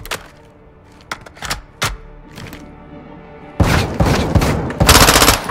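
Gunfire from Call of Duty Modern Warfare II on PS5 during a cartel-guard room-clearing mission: scattered single shots and short bursts at first, then dense, loud bursts of automatic fire toward the end, with no talk.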